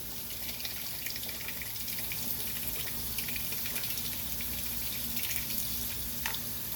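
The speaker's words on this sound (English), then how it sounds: "So now I just put water in here, and I'm filling this up with water." A tap fills a container with water for brining a bird, producing a steady, continuous rushing stream that stays even throughout, close and moderately loud, with no talk.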